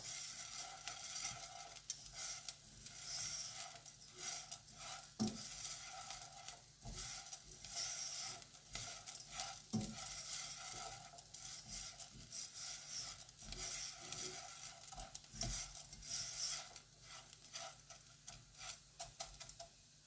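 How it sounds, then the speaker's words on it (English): Crab and dill risotto is stirred in a pan over a steady low sizzle, a spoon scraping and knocking against the pan at irregular intervals, close and continuous with no talking. "So keep mixing and do this for 1 to 2 minutes."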